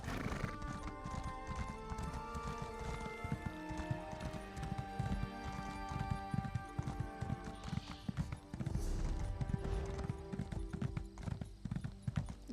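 Steady clip-clop of horse hooves from a mount in The Elder Scrolls Online, a brisk rhythmic trot close up, with a neigh or whinny mixed in and game music and ambience underneath.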